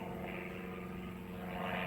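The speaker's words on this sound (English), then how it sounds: "There goes another airplane." An airplane drones overhead as a steady, faint, broadband engine rumble that holds evenly throughout with no talk.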